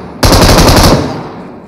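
Loud, close burst of automatic gunfire in the video game PUBG, a rapid run of shots lasting under a second and then fading, with no voices.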